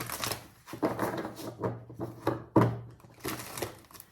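Tarot cards get shuffled by hand in quiet, close bursts of riffling and slapping, several short rounds separated by brief pauses.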